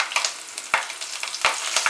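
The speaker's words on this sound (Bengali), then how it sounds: "মাছটা ভেজে নেওয়ার পরে ওই তেলেই আমি কালো জিরে ফোড়ন দিচ্ছি" Nigella seeds and slit green chillies splutter in hot mustard oil left from frying hilsa fish, a bright close crackle with sharp popping bursts and no voices.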